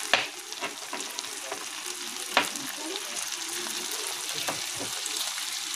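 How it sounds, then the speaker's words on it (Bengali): Ground onion, ginger, garlic and green chilli pastes fry in oil with onion for a Bengali omelette curry, giving a continuous close sizzle broken by repeated spoon-stirring clicks and scrapes. "এবার এক একে আমরা বাটা মশলাগুলো দিয়ে দেবো"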